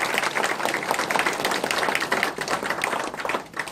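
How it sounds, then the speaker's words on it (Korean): At the opening ceremony of a regional research institute branch office, an audience claps energetically, giving a full, dense burst of applause that swells and dips slightly before easing toward the end. "다시 한번 박수 한번 쳐주세요."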